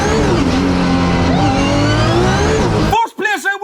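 A 1,000 horsepower race car pulls away with a loud, steady engine roar and rising harmonic whine that runs continuously, then cuts off abruptly near the end, leaving brief bursts of speech.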